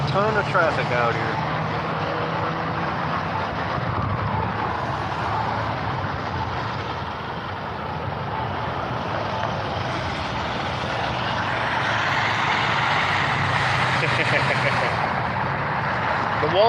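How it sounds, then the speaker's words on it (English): Steady road traffic passing by outside during a protest, a continuous wash of trucks and cars rumbling past with little break, moderately loud. "This is a ton of traffic out here."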